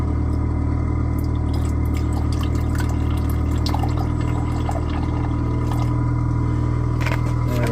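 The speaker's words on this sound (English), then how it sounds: "Add a little bit of water to this." Water is added to a 200 ml beaker during gold refining, a continuous pouring and trickling over a loud, steady background hum with a few faint clinks.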